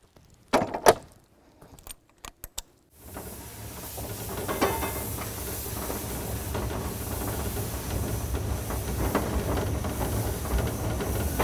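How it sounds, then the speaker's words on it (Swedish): Steam locomotive exhaust beats while the engine is being driven on a railway, a few sharp metallic clanks first, then a steady continuous chuffing and hissing rush that carries on loudly to the end. "Man lär sig att höra på ångslagen hur fort man kör ungefär"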